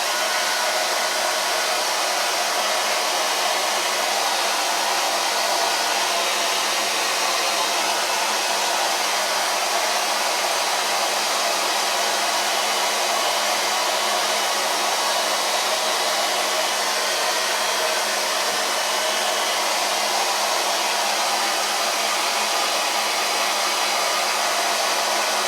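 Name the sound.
hair dryer blowing onto hair roots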